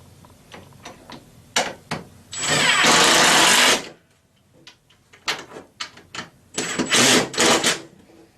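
A power tool drives screws into a base cabinet in bursts: two sustained whirring runs of about a second each, separated by scattered clicks, knocks and handling noise, close by.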